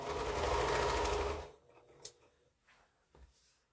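A home sewing machine stitches a quilt seam in a steady, close whirring run that stops after about a second and a half, followed by quiet clicks and small handling noises.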